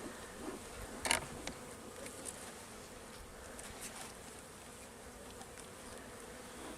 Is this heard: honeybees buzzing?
yes